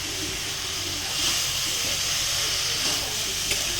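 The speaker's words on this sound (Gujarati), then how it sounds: "હિંગ ને જીરું વઘારી નાખ્યું છે હિંગને અને જીરુંને।" Asafoetida and cumin tempering sizzle in hot oil on a gas stove, a steady close-up hiss that holds evenly throughout with slight swells.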